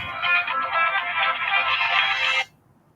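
A phone ringtone plays loud and close, a bright continuous electronic melody lasting over two seconds before stopping abruptly into near silence.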